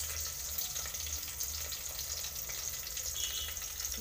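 Chillies fry in hot oil in a pan with a steady, close, continuous sizzling hiss and no talk over it.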